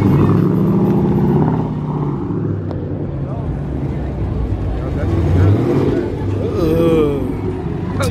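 Tuned car engine with loud exhaust at a Mopar car meet in Waukesha, rumbling and revving close by under the talk of people nearby, with the engine note rising and falling throughout.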